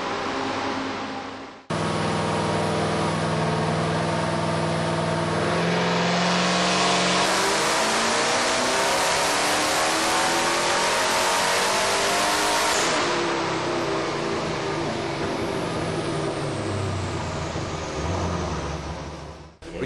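A twin-turbo Nissan R34 fitted with an LS2 V8 roars loud and close on a dyno, climbing through a long sustained full-throttle pull for roughly ten seconds before the revs drop off.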